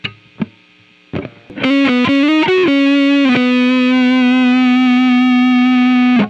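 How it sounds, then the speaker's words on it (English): A few picked notes, then a distorted electric guitar through a simulated Marshall amp in AmpliTube 5, on the neck pickup, plays a quick rising lick and holds a long, sustained overdriven note that rings out loudly. "That beautiful, super sweet Marshall tone, right?"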